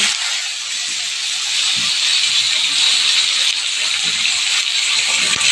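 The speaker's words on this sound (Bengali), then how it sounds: "পেঁয়াজ দিয়ে দিলাম, পেঁয়াজগুলো যতক্ষণ ভাজা হয় লাল লাল হয়ে।" Onions frying in very hot oil with dry red chillies and spices for chicken kosha, a close, loud, steady hiss of sizzling with faint crackles underneath.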